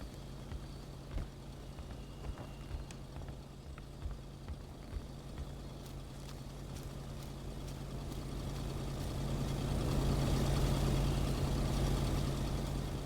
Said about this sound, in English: God, man, my truck is so loud.